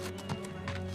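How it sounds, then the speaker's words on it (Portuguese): A cartoon horse walks with a light, rhythmic clip-clop of hooves, several even steps close up over a steady musical drone, in an animated story set in the time of Jesus. "Meu cavalo está cansado."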